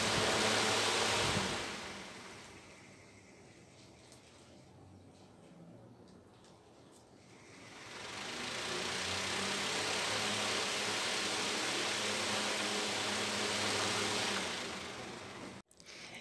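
An air cooler's fan motor spins a bent, misaligned propeller with a loud, broad whooshing roar. The noise dips in the middle, then surges back and holds steady before cutting off abruptly.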